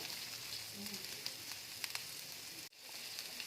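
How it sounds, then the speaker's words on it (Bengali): Onions frying in a little refined oil on a tawa, a soft, even sizzle heard close, with a brief dropout partway through. "তাওয়া নিয়ে নিয়েছি, তার মধ্যে অল্প একটু রিফাইন তেল দিয়ে দিয়েছি। এবার আমি একটু পেঁয়াজ এর মধ্যে দিয়ে দিলাম।"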